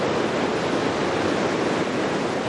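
Ocean surf at the Corona Open Mexico surf contest, a dense, unbroken wash of breaking waves, loud and steady with no voices over it.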